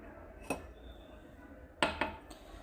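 Oil, salt, sugar and warm milk being mixed in a bowl for homemade bread dough, with a few sharp clinks of a utensil against the dish, one early and a cluster near the end, over quiet room background.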